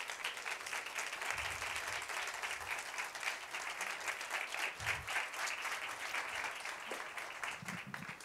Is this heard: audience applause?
yes